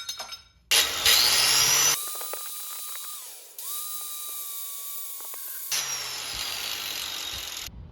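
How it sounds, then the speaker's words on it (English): Hacksaw cutting a massive piece of aluminum for a two-stroke engine mount, close and loud: two bursts of rasping strokes separated by a quieter stretch with a thin ringing whine from the metal. "So, cut off this massive piece of aluminum and"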